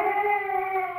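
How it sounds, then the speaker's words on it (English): A small toy siren sounds in one brief steady wail, loud and near, with no talk over it. "This little siren. That'll get him every time."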